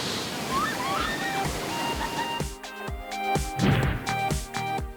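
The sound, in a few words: waterfall and splashing water at camp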